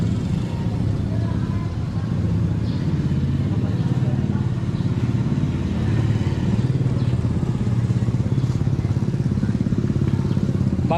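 Motorcycle engine running steadily nearby, a low continuous rumble with rattling texture that holds at an even level throughout, with no pauses or revving surges.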